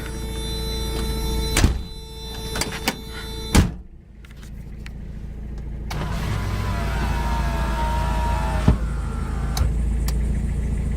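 A Mazda Miata engine starts after a few clicks and thumps, then settles into a steady idle with a low continuous rumble.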